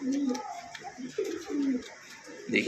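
Pigeons cooing at a breeder's loft, a mated pair of coo pigeons, with repeated low throaty coos rising and falling close by while someone talks over them.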